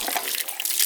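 Water rushes and splashes into a hand-dug well hole dug with a shovel, a close, steady, hissing flow lasting about a second with no voices.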